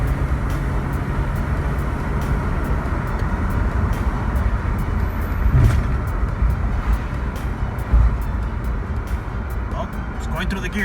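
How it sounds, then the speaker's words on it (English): A 2001 Honda Passport drives along with a steady engine and road drone from inside the cabin as it shifts through its gears, with someone talking over the noise. "Well, it's going through the gears now."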